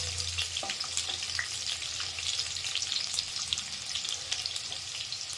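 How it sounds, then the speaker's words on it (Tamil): Garlic crackles and sizzles steadily in hot oil in a pan while cooking fish, a dense, even hiss with light popping throughout and no talking. "பூண்டு நல்லா பொரியட்டும்."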